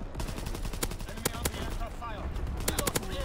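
Sten submachine gun bursts in Call of Duty WWII, sharp rapid shots in several quick strings over the whole stretch, loud and close, with other gunfire and game noise mixed in.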